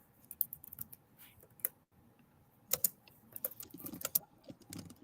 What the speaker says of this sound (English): I've been trying to type hello there